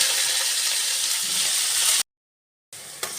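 Chopped raw onion sizzling in hot oil tempered with green cardamom, cinnamon and cloves for a Bengali cauliflower, potato and egg curry; a steady loud frying hiss, then a brief silent gap before the sizzle resumes with a small clink.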